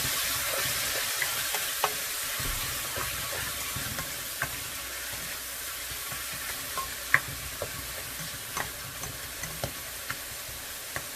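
Green peas and garlic sautéing in a pan give a steady soft sizzle throughout, with light scattered ticks and pops from the pan.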